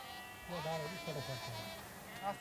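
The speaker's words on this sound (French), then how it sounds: "des milliers de moutons se nourrissent d'herbes et de plantes de tout premier choix" Sheep bleating high in the Himalayan mountains of Kashmir, several wavering cries from a flock grazing around 3800 metres, fairly close and clear over a light background hum.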